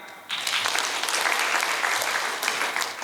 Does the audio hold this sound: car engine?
no